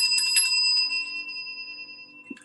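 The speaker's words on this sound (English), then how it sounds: "I want to ring the bell for you" A bright bell rings once to greet new students, its clear metallic tone sustaining and slowly fading close by, alone.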